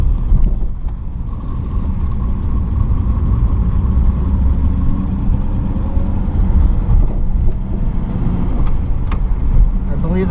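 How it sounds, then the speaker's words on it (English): A 1949 Ford Deluxe's engine drones steadily through a second-gear downshift, a low rumble with wind and road noise inside the moving car, continuous and fairly loud. "So here's the second downshift."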